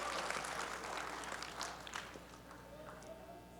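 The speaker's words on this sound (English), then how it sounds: "So let's give a round of applause for her." Crowd applause for a sister at a wedding reception, a dense wash of clapping that is loudest at first and slowly fades over a few seconds.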